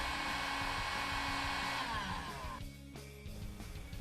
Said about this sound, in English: Using a low heat setting on a heat gun, heat the end of the tape about 120 to 150 degrees Fahrenheit until the tape begins to soften.